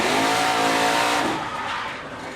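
A NASCAR Truck Series truck spins out on track, its tires squealing loudly and continuously under a roaring engine, fading slightly as the slide ends.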